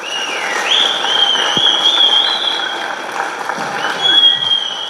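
Children applauding at a youth cup football event in Fornos de Algodres, a steady, sustained clapping from a group with a thin high tone running through it.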